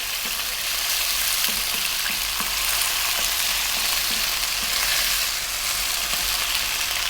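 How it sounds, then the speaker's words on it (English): Thin boneless skinless chicken breast strips frying in a pan, a steady close hiss of sizzling with soft intermittent stirring scrapes. "I'm going to stir this around for 3 minutes."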